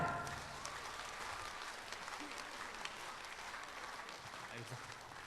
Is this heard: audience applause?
yes